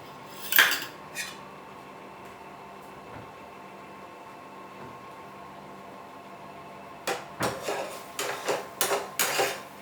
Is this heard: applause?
no